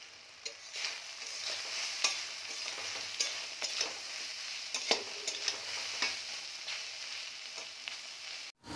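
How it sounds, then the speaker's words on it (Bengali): Taro stolons frying in a pan with a little mustard and green chilli, a steady close sizzle broken by repeated scraping and clinking stir strokes, ending with a sharp knock. "ওইদিকে ভাজি হচ্ছে কচুর লতি, একটুখানি সর্ষে আর হচ্ছে কাঁচা লঙ্কা ফোড়ন দিয়ে ভাজলাম।"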